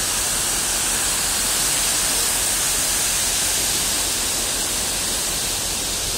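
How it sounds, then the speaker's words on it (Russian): The Chegem waterfall in the Caucasus rushes in a loud, constant broadband roar of falling water, unbroken from start to finish with no talk. "Чегемский водопад и Паопа."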